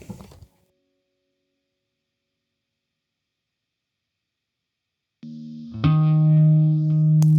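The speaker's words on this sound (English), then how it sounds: "hear what the guitar sounds like going through our phaser" A brief burst of guitar, then silence, before an electric guitar chord through a phaser rings out with swirling, modulated sustain.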